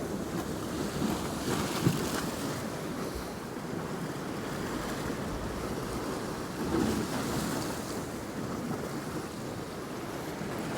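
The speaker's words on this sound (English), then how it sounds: "The waves are coming right in up here on this side as well." Stormy sea waves break and surge onto the shore at Hopton on Sea near Great Yarmouth, a continuous loud wash of surf mixed with gusty wind buffeting the microphone, with no voices.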